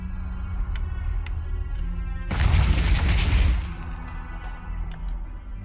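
Thrown bomb in the game Flask (Alchemist Adventure) bursting in a single loud explosion that roars for about a second before fading back into a steady low game hum.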